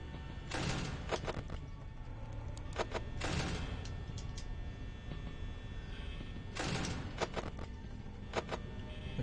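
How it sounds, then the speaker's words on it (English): Mechanical shuffling and thumping bursts from the animatronic Chica moving in the horror game Five Nights at Freddy's, several muffled broadband rumbles recurring over a steady ambient hum, with no speech. "Okay, that was the sound of Chica moving"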